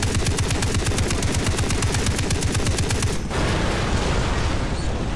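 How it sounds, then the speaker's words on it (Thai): Rapid automatic turret gunfire in a video game vehicle chase, a fast steady burst of loud close shots that cuts off after about three seconds into a dense rumbling roar. "ยิงจนรถระเบิด"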